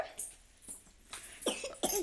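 A child coughs several times in short, raspy bursts with soft breathing between them, close by in a quiet room.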